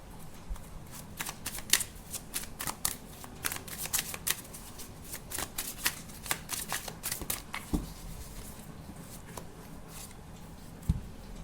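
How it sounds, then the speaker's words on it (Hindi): Tarot cards are shuffled by hand in quick, crisp riffling bursts, close and fairly quiet, with a few separate taps near the end and no talk. "तो अभी अगर कम शफल कर रही हूँ तो परेशानी की बात नहीं है"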